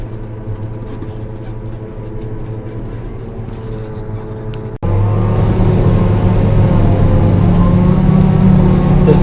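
A 2004 Sterling truck, once a milk truck, runs with a steady low engine drone and hum that jumps noticeably louder about halfway through and then holds there.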